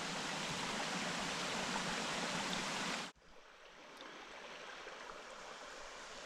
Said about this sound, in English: We're looking at another really pretty water crossing.